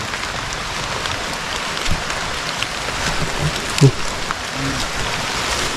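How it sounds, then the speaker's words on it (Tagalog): Steady rain falls outdoors, a dense close patter with occasional louder drops and thumps, continuing without pause. "Ay umuulan din."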